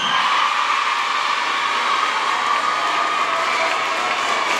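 A large audience applauding and cheering for Institut Vedruna at a debate contest, a steady, loud wash of clapping and crowd noise that holds without a break, with no voice speaking over it.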